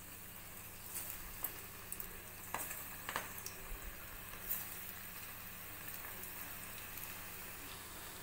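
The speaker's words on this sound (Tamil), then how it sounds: "நம்மளோட உருண்டைகள் நல்லா பொரிஞ்சிட்ருக்கு" Lentil dumplings deep-frying in hot oil in a kadai over a medium flame: a steady, faint bubbling sizzle with scattered sharper pops and crackles throughout, no voices.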